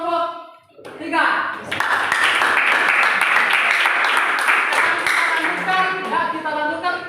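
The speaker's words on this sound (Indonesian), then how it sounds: "tepuk tangan dulu untuk kelompok 3" Classroom applause for a student group, starting after a brief spoken line and swelling into sustained clapping from many hands, with voices mixed in throughout.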